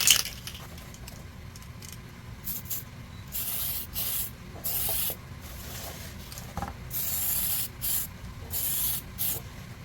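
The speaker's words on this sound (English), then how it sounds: "We're going to give these a dusting of some primer." Short bursts of primer hiss from an aerosol spray can, several separate passes in an irregular rhythm, close and fairly loud, with no talk.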